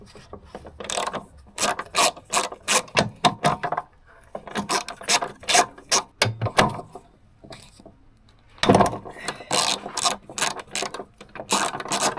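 Close ratchet clicking in quick bursts undoes bolts on a Mazda MX5 ND strut tower brace, with brief pauses between runs of rapid pawl ticks.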